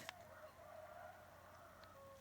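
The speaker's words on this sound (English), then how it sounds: "I'm sure you can hear the roosters in the background." Roosters crow in the distance, one call near the start and another toward the end, over a steady low hum.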